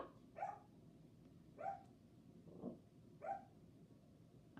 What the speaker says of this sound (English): I'm just letting the dog just quiet down